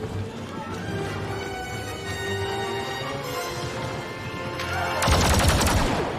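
Gunfire in the video game Star Wars Battlefront II, rapid bursts of shots over a busy game soundscape, growing louder and denser near the end.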